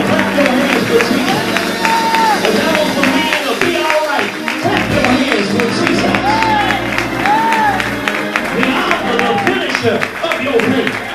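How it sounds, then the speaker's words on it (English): Church congregation clapping along during a lively worship service, steady dense handclaps mixed with crowd voices, singing and cheers throughout, loud and close. "Clap your hands for Jesus. Come on, clap your hands for Jesus."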